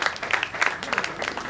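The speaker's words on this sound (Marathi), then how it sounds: "दोघींसाठी जोरदार टाळ्या होत्या, जोरदार टाळ्या" An audience claps for two friends at a sangeet celebration, brief uneven applause mixed with a voice speaking over it.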